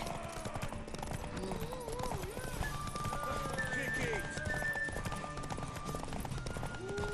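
Rhythmic clip-clop of horse hooves alongside a whinny in The Witcher 3, with talking voices over the top and a game-like ambience.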